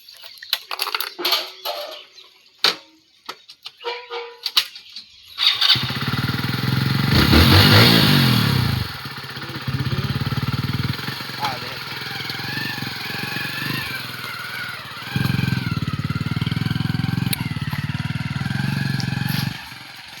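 A freshly washed motorcycle fires up after some clattering handling noises, then idles loudly and revs up and down close by. A rough, steady engine rumble carries on to the end.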